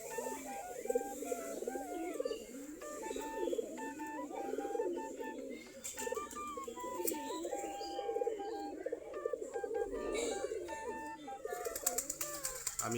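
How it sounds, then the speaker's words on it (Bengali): Local Giribaz pigeons cooing continuously in a loft and nearby tree near dusk, overlapping low calls with other birds chirping around them. "সম্পূর্ণ দেশি গিরিবাজ কবুতর।"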